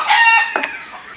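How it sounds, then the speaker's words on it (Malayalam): A rooster crows loudly and close for most of the moment at an outdoor cooking camp, its harmonic call trailing off into a few softer hen clucks at the end. "കോഴിയുടെ ശല്യം ഭയങ്കര കേട്ടോ"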